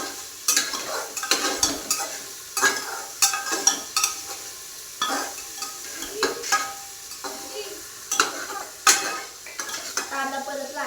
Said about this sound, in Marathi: कांदा हलवून घेतल्यावर कांदा परतल्यावर